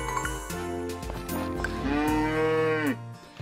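A cow in the farming video game Story of Seasons: Friends of Mineral Town gives long, low moos, repeated close and clear over light tonal game music.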